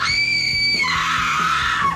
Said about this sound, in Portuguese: Lois se desespera gritando feito uma louca